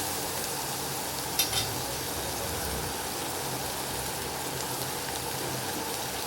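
Potatoes fry in a pan for kande pohe, a steady, moderately loud sizzle with one brief metallic clink partway through.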